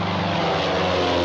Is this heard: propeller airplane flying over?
yes